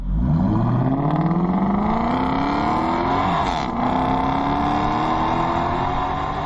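Ford Falcon XR8 accelerating hard from a standstill in a 0-100 km/h run, engine note climbing steeply with a brief gear-change dip before pulling again, loud and steady.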